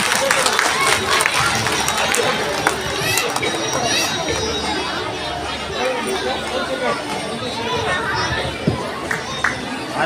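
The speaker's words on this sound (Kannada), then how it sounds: "ನೀವು ಚಪ್ಪಾಳೆ ಹೊಡಿಬೇಕಲ್ವಾ?" An audience claps at a school arts festival, Kalotsava 2025, at Sri Manjunatha Vidyalaya. Dense, steady applause fills the hall for about ten seconds, mixed with crowd chatter and a few sharper claps near the end.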